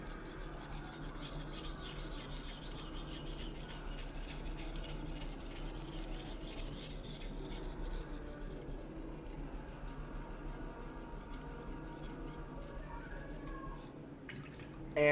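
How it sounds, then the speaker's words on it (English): A knife edge is drawn back and forth across a sharpening stone in push-and-pull strokes, producing a steady, faint, continuous gritty rasp with no clear pauses. "So I just kind of lay the edge down and I push and I pull."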